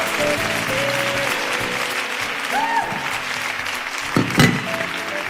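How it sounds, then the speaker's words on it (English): At a fintech conference event, an audience applauds steadily throughout, a continuous wash of clapping with faint voices and a brief tone underneath. "Can we do another set of a round of applause for him, please?"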